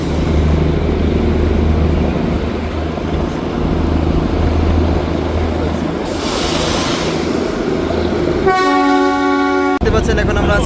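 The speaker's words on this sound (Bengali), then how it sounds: "কি জবরদস্ত হুইসালে সাউন্ড দেখেন" Whistle of the Darjeeling toy train on the mountain run from Darjeeling to Siliguri, a loud sustained harmonic blast near the end over steady rumbling train noise and engine drone, with a short second toot after it.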